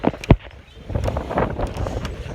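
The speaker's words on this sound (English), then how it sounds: "It's windy." Gusty wind in Los Angeles buffets the microphone with low rumbling thumps and a sharp knock early on, the blustery noise continuing unevenly throughout.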